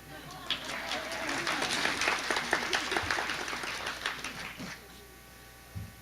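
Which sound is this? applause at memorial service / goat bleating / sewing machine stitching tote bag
applause at memorial service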